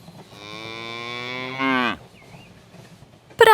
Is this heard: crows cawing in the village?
no